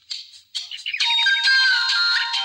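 A mobile phone rings with an incoming call, a bright melodic ringtone of quick rising and falling notes that starts, briefly pauses, then plays on steadily and close.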